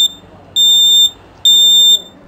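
Two sustained high-pitched electronic beeps, each about half a second long, sound clearly one after the other over a quiet background.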